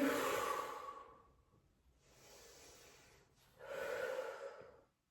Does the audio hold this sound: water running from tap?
no